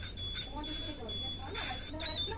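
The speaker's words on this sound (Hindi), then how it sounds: "ये देखिए साइड इंडिकेटर का जो साउंड है इसका बहुत ही धीमी आ रहा है" A weak motorcycle side indicator buzzer gives thin, high, faint pulses that beep on and off in a steady rhythm beneath someone talking.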